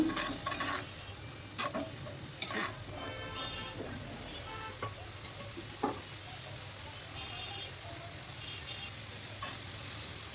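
Spices fried with lentils and rice in a pan for a lentil curry with eggs, a steady close sizzle with scraping stirring strokes and several sharp spoon knocks against the pan, with no talking.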